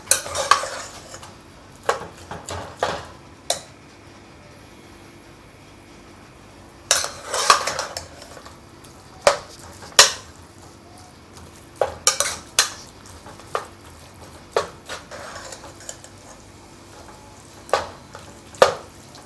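Minced meat frying with ginger garlic paste in a pan, soft sizzling under repeated scraping and clinking of a spoon against the metal in irregular bursts, close by.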